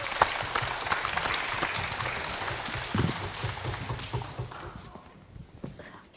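Audience applause at a children's composer recital, clapping for a young composer, a dense, steady wash of many hands from a moderately distant crowd that slowly thins and fades toward the end.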